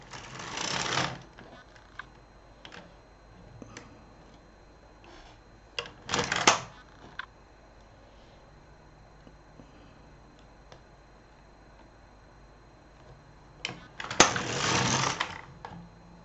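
A Silver Reed LK150 knitting machine knits two rows, each a brief loud rasping carriage sweep, with soft clicks and handling taps of needles and yarn in the quiet stretches between passes.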